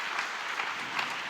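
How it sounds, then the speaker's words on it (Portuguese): A conference audience applauding at CONAPROC 2023, a dense, continuous wash of many hands clapping together at a steady level, from slightly further off, with no distinct voices. "Eu vou pedir uma salva de palmas para vocês de novo"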